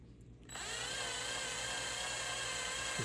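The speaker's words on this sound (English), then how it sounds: "Just drill slow, pull it back, clean the bit, a little more WD." A small power drill bores a pilot hole into a die-cast Hot Wheels Toyota Supra toy car, spinning up after a short quiet lead-in into a steady, close, high-pitched whine that holds to the end, with no talk.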